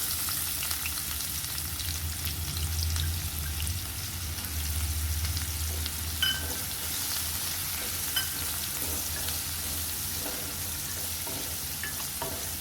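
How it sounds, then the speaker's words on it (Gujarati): Finely chopped onion fries in hot oil with cumin and asafoetida for a tuvar dish, making a loud, continuous sizzle with faint stirring clicks throughout and no talking. "હવે આપણે આ ઝીણી ડુંગળી સુધારેલી છે એ નાખી દઈએ."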